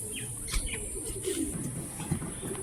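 Madras long-distance flying pigeons coo softly in short, low murmurs close by, quiet against a faint hum, with no talk.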